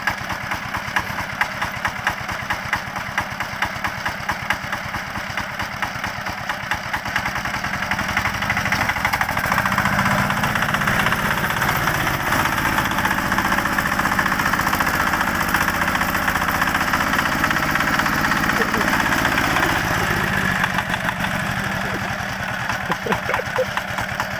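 A walk-behind tractor's small engine labors up a slope, a rapid chugging putter that steadies and strains louder through the middle before easing off, close to the microphone with no talk.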